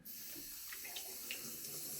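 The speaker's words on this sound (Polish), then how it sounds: "Widzę, że krem daje się dobrze spłukać." Running water from a sink tap rinses shaving cream off a straight razor, a steady soft splashing stream with a few brief higher splashes, quiet and close with no voices.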